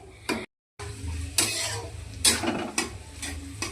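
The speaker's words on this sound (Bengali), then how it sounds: "এই যে সবজিগুলোকে ভেজে নিচ্ছে" Vegetables frying in a pan for an evening snack of Maggi noodles, with a steady close sizzle broken by a few louder scraping stirs and a brief dropout near the start.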